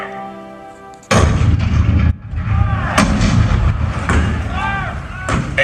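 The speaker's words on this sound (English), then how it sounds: "Fort Sumter. The cannon spoke for war, bitter, violent, and devastating." Cannon fire in a Fort Sumter battle reenactment at the Disney World Hall of Presidents: several loud, heavy booms spaced a second or two apart, each followed by rumbling echoes, the first bursting in after a quiet musical lead-in.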